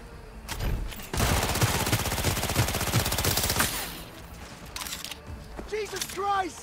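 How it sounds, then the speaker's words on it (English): A flashbang grenade going off in the video game Cyberpunk 2077, a loud dense burst of rapid crackling blasts lasting a few seconds, framed by a person shouting excitedly before and after. "Oh my god, the flashbang!"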